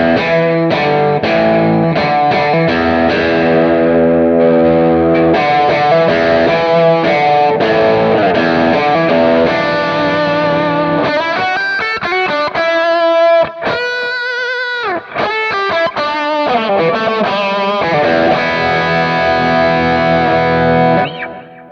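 A bright, mid-heavy electric guitar through a Klon-style overdrive on a Kemper amp profile plays chords and quick single-note runs, loud and continuous with no talking.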